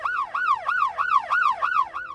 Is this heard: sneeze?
no